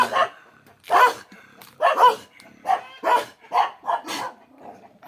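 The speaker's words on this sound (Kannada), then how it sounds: "ಮನೆ ನೋಡೋಕೆ ಬಂದರೆ ನಾಯಿಗಳು ಸ್ವಾಗತ ಕೊಡ್ತಿದ್ದಾವೆ" Dogs bark at a house in a forested area in a steady series of about eight loud, sharp barks, close by, with brief gaps between them.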